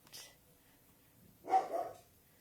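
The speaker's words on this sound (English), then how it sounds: "the dogs are going crazy" A faint bark, then a louder muffled bark about a second later, dogs sounding from another room with quiet gaps between.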